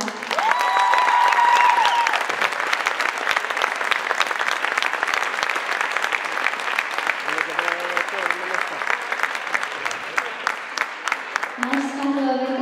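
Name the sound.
audience applause for gymnasts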